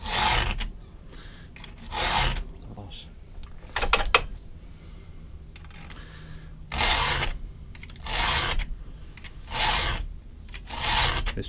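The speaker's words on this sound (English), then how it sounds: "I sharpen lots of chains by hand out in the field." A Stihl chainsaw chain in worn condition is sharpened by hand with a file, heard as close, rhythmic rasping strokes of about a second each, repeated with short pauses and small clicks between.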